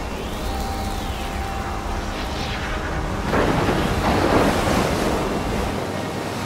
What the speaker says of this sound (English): That's a huge fucking storm.